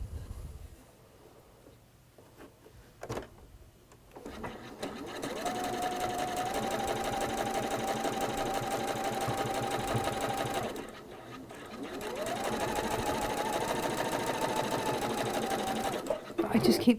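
A sewing machine stitches fabric in two long steady runs, each starting with a rising whir and holding an even hum, close up, with a voice talking softly in the quieter moments.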